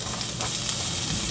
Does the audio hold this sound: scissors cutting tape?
no